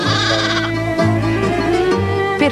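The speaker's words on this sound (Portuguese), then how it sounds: "Perdida, a pequena ovelha grita e sai ao encontro da mãe" A lost newborn lamb, only a few days old, bleats loudly and close by in a quick run of wavering cries for its mother.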